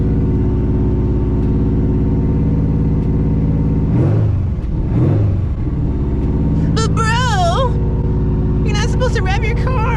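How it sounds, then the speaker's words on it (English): A BMW X3M engine idles with a deep rumble, then gets a couple of quick revs that swell and fade, and a voice talks toward the end. "To rev your car."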